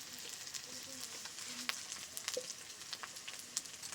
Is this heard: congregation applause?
no